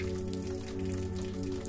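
Soft, steady rain falls in a quiet village setting, a faint continuous patter with no distinct drops standing out and no voices.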